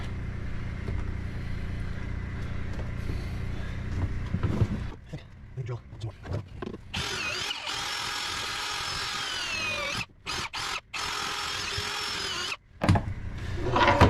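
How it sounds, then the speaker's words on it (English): A power drill with an auger bit bores out a rotten wood compression post stub on a Catalina 30 sailboat, a loud grinding whir that stops and starts in bursts, with someone talking at times. "this auger bit has been really helpful to remove a lot of material"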